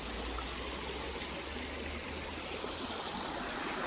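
A natural stream flows steadily outdoors, giving a continuous broad rush and trickle of water with no breaks or voices.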